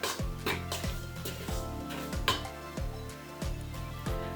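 A spoon stirring milk powder into dough in a bowl, with soft rhythmic scraping and repeated light clinks against the bowl, quiet and close, roughly one stroke every half second.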